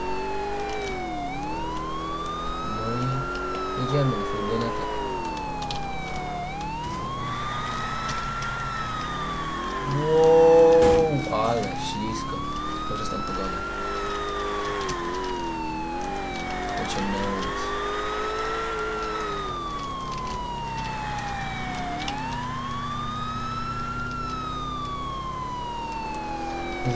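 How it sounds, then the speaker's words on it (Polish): A police car siren in GTA IV wails, rising and falling in a steady repeating cycle over a continuous engine hum. Someone talks briefly over it. "Włączymy sobie syreny, żeby nam auta z drogi nie zjeżdżały."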